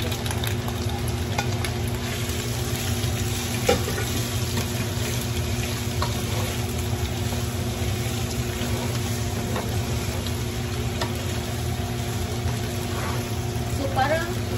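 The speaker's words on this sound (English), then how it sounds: "So, parang igisa lang yung shrimp sa garlic, guys." Shrimp sautés with browned garlic in a pan, giving a steady hiss of frying with faint occasional clicks and a low constant background hum throughout.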